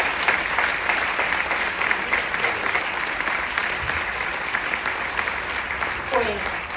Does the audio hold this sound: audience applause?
yes